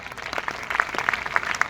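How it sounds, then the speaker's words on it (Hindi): Applause for a singer at a Hindi-speaking gathering, a short, fairly faint patter of scattered hand claps with a few sharper individual claps standing out. "एक बार जोरदार तालियां।"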